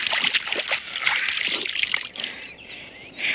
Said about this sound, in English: Splash some of this water in your face.